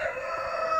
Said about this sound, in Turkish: Astrolog horozlarımıza bakalım.